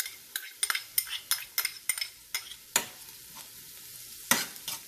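A spoon stirs shallots, crushed ginger, garlic and fennel seeds in a hot pan, with a string of sharp scraping clicks over a soft, steady sizzle.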